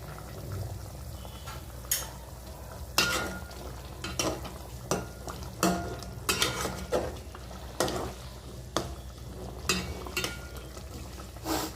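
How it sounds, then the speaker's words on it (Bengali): Eggs fry in a pan for egg bhuna while a spatula stirs them, giving a soft steady sizzle punctuated by regular scraping strokes, fairly close and moderately quiet. "আমি ডিমটা দিয়ে দিলাম, এখন হতে থাক"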